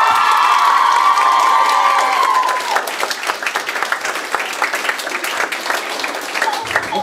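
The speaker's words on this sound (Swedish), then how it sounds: "Så en applåd till er själva." A crowd at a live concert, a feminist youth party, applauds and cheers loudly, with whoops and shouts rising over dense clapping that thins into scattered claps, and a voice briefly speaks over it.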